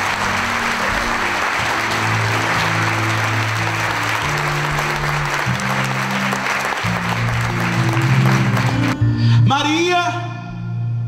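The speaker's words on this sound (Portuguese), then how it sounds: "Vamos aplaudir mais uma vez a Mãe de Deus." A crowd at a Catholic healing camp applauds loudly and continuously over music, the clapping fading out near the end.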